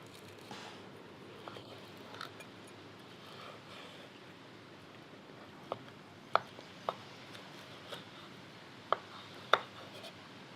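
A fixed-blade knife with micarta handles, titanium bolster and K110 steel slicing through smoked pork neck on a board, giving a few soft, scattered cutting taps and scrapes close up over a quiet outdoor hiss.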